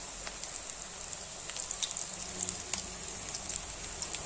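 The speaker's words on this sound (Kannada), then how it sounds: "ಎಣ್ಣೆ ಬಿಸಿ ಇದೆ, ಆವಾಗಲೇ ಬಿಸಿ ಇಟ್ಟಿದ್ದೀನಿ ಎಣ್ಣೆನ. ಇವಾಗ ಕಾಂದಾ ಬಿಡ್ತಾ ಇದ್ದೀನಿ." Onions for crispy pakoda fry in hot oil with a soft, steady hiss and scattered little pops, fairly quiet and with no one speaking.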